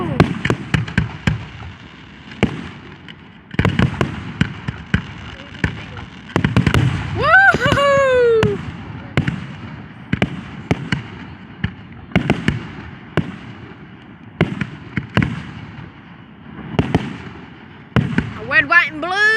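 Fourth of July fireworks bursting in a series of loud, sharp booms and crackles with whistling rockets, spaced every second or two, while people talk and cheer nearby.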